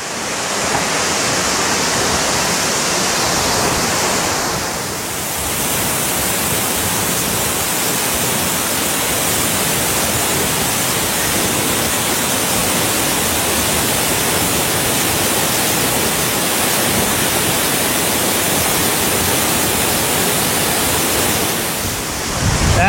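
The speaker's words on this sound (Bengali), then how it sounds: "এই হলো রিম্বি ওয়াটারফলস। কত উপর থেকে জল পড়ছে দেখুন।" Rimbi Waterfalls near Pelling pours down in a loud, continuous roar of falling water that stays steady and close throughout, with a brief dip in intensity near the start.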